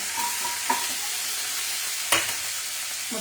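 Green chilies and curry leaves sizzle in hot oil, a soft steady hiss with a couple of sharp crackling bursts as the pan is stirred, close and fairly quiet with no talking.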